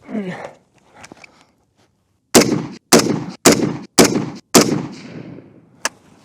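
Five loud gunshots from an Orca rifle fire in a steady cadence, each a sharp close crack with a short decay, followed by one fainter sharp click; a brief voice and soft handling noises come before them.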